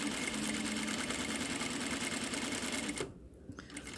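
Sewing machine running steadily for about three seconds while stitching a fabric channel for elastic on a sousplat cover, then abruptly stopping, leaving a quiet tail.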